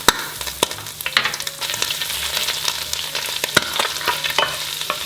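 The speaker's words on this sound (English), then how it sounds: "We're then going to saute some garlic" Garlic sautéing in butter in a pan over medium-high heat, with a steady sizzle and crackle punctuated by sharp clicks and scrapes of stirring, close and continuous with no talk.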